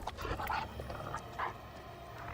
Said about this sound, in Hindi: वो कुत्ता।